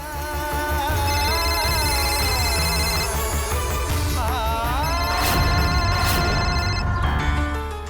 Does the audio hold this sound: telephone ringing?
yes